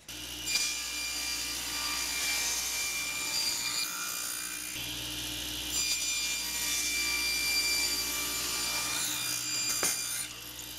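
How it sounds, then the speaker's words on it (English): A table saw crosscuts the ends of wooden boards guided by a miter gauge, giving two long, loud whining cuts separated by a brief pause, ending with a short clunk. "I'm just going to use my miter gauge for this task."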